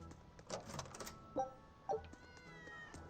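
Cats meowing in the video game Tales of Berseria: a few short, faint meows spread through a quiet scene, with soft clicks and game ambience between them.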